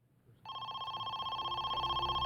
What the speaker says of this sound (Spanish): más de 2 horas después de secuestrar a Amy, el teléfono al fin sonó.